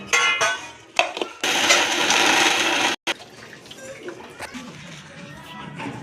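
A mixer grinder whirs through sesame, peanuts and jaggery in a loud continuous burst of about one and a half seconds, then cuts off, followed by quieter kitchen rustling.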